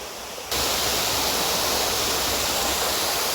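A stream flowing past a pipe laid in its bed, a loud steady rushing wash of water that starts abruptly after a quieter moment and continues unbroken.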